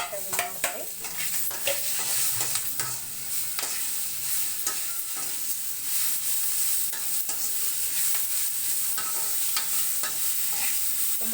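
Tomato going into a hot frying pan for jeera rice, sizzling and crackling steadily throughout, with stirring clatter and scraping close by.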